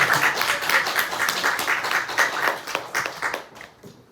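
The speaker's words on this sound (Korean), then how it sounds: "박수 한번 치고 시작할까요?" Audience applause in a talk at a museum, steady and dense clapping from a room of listeners lasting about three and a half seconds, then fading out.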